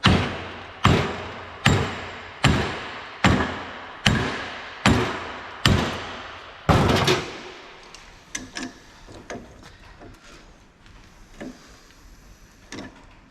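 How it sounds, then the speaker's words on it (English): Nine sharp, evenly spaced hammer blows ring out, loud and close, followed by lighter scattered knocks and clatter. "So I'll use a hammer."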